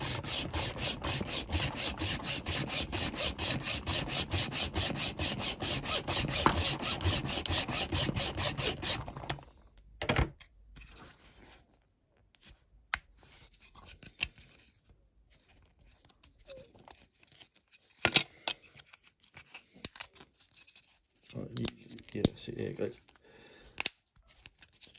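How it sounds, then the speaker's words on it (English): A Corgi Jaguar XJ12C die-cast toy car has its interior cut away, heard as a long, steady rasping, sawing scrape up close, followed by scattered snips, taps and handling noises with some quiet talk. "I'm just cutting away the interior now, or cutting out bits I don't need"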